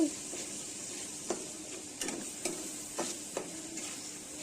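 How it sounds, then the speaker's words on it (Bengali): Onion and garlic paste frying in oil with cardamom, cinnamon and bay leaf for a chicken roast: a constant soft sizzle with several light spatula scrapes spaced through it, close by, no voices. "পেঁয়াজ আর রসুন পেস্ট, দিয়ে দেব এলাচ দারচিনি তেজপাতা। সবগুলো একসাথে ভেজে নিয়ে"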